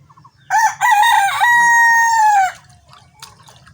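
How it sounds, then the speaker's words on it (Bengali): A village rooster crows once, loud and close: a long drawn-out call lasting about two seconds, over faint dripping and background noise. "আমাদের অনেক দর্শক ঘুমায় আছে, এই মোরগের ডাকে উঠে যাবে।"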